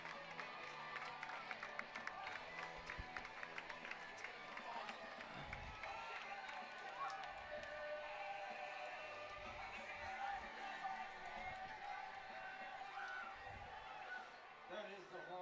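A crowd at a Brook Hill School high school football game keeps up a steady roar of cheering and shouting, with scattered claps and voices from nearby spectators running throughout.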